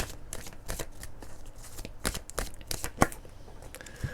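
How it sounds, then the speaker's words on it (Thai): Romance Angels oracle cards being shuffled by hand, close and crisp, with a rapid run of riffling flicks and soft slaps heard alone over a few seconds. "ขอดูไพ่โรแมนต์แองเจิลหน่อยค่ะ"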